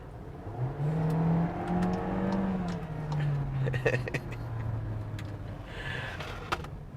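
A 2019 Volkswagen Jetta engine revs in sport mode with a rising and falling harmonic whine, held fairly steady for several seconds, with a few light clicks near the end.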